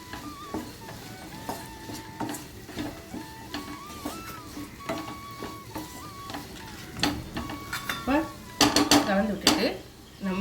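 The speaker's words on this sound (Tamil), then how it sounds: "இப்போ இதை நல்லா கலந்து விட்டுருலாம்" Sambar powder is mixed into an eggplant curry in a pan, with a metal spoon clinking and scraping against the pan in irregular taps. A few louder clatters come near the end, close and moderately quiet.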